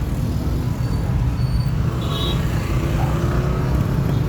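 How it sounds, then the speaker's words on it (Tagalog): Street traffic on a busy road in Zamboanga, with many tricycles about: a steady, loud roar of engines and rolling vehicles, broad and continuous, with a car passing nearby. "Grabe ang traffic."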